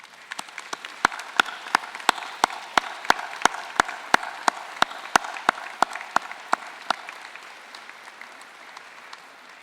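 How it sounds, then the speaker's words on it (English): Graduation ceremony audience applauding families, a sparse group of distinct, sharp claps ringing out steadily for several seconds before thinning out, no talking over it. "join me in a round of applause to thank them for all that they've done in helping you achieve this milestone"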